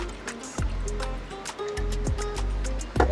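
Liquid is poured into a margarita with ice cubes aboard a boat, giving a close, splashy trickle with a few sharp clinks and taps of ice and glass.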